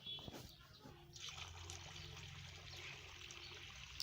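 Rice is rinsed in water in a pot, with a faint sloshing and trickling that starts after a soft knock and then runs on steadily at low volume, with no voices.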